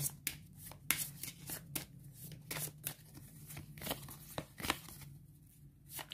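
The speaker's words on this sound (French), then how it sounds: "Je vais mélanger les cartes du futur" A deck of cards for a solo tabletop game is shuffled by hand, a string of quick riffling flutters and soft slaps repeating at close range, with no talking.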